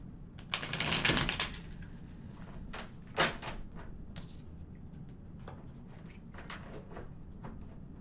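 A deck of cards being shuffled nearby, a quick riffling burst followed by softer taps and flicks of cards in a quiet room.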